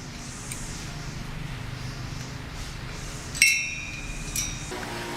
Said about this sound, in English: I'm going to put it on the stud and let the washer fall down